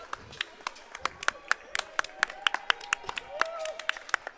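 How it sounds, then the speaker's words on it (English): Scattered hand claps ring out at a high school basketball quarterfinal, sharp, irregular and fairly close, spreading into a standing ovation, with faint crowd murmur underneath. "We're giving him a round of applause."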